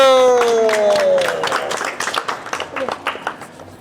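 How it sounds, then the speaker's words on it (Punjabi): Irregular hand claps at a family birthday cake cutting for Ishita and Monika. Voices sing in the first second and a half, then a burst of scattered, fairly close clapping follows and trails off. "ਤਾੜੀਆਂ"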